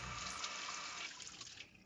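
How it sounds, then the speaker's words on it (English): Rushing water pouring steadily like a running tap, a continuous loud hiss that eases slightly toward the end. "You guys hear the rushing waters?"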